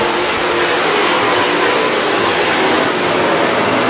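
WISSOTA modified race cars roaring around the Granite City Speedway oval during a night feature race: a dense, loud, continuous engine howl that fills the whole stretch without letup.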